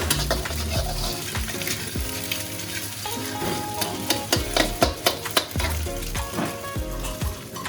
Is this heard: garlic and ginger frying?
yes